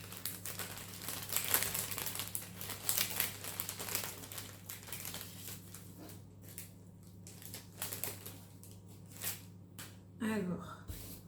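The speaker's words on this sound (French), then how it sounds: "Si j'arrive à ouvrir la petite pochette." A small crinkly plastic packet of scrapbooking embellishments is fiddled with and opened, giving dense rustling and crackling that fades into quieter handling and a final brief crinkle, with someone speaking French nearby.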